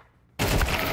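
Quiet ambience breaks abruptly into a loud burst of gunfire that keeps rattling densely to the end.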